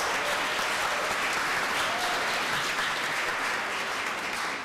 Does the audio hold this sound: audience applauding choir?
yes